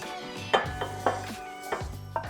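A heavy pan is handled while hamburger mixture with onions and peppers is divided into it, producing several distinct clunks and clanks of metal with quiet scraping in between, close by.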